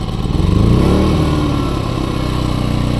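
An AL-KO generator engine idles with no load, a steady close low-pitched putter with a faint rhythmic pulse, loud and unbroken for the few seconds heard.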